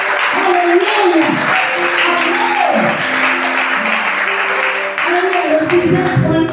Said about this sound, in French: Applaudis pour moi.